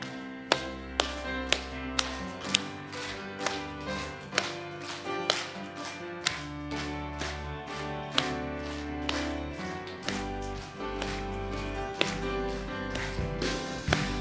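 A church congregation at a Sunday service claps steadily in time with a hymn, sharp regular claps over sustained music and a room full of voices.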